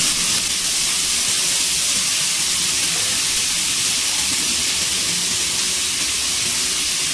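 Chopped beans and carrots hit a hot pan for mixed fried rice, giving a steady, loud sizzle and hiss that holds evenly throughout with no talk.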